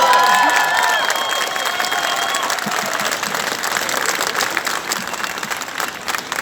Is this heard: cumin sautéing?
no